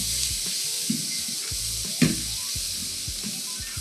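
Black beans sizzle and fry in a pan with sautéed aromatics, a steady close hiss broken by light stirring scrapes and a clack of a utensil against the pan.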